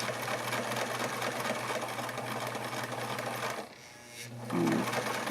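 A Singer 239 sewing machine stitches slowly through thick stacked fabric layers, its steady close mechanical hum running continuously before pausing briefly near the end, then resuming with a heavier thump.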